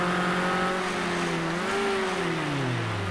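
Onboard a Ford Escort RS 1600 racing in a sprint race at Cadwell Park, the engine holds a loud, steady drone whose pitch dips and then climbs again as the driver lifts and accelerates through a corner.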